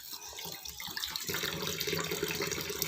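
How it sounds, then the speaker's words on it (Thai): Water splashes and runs as fresh vegetables and mushrooms are washed clean, a steady, fairly soft gushing with small clatters that grows fuller after the first second. "มาล้างน้ำให้สะอาดก่อนนะพี่น้อง"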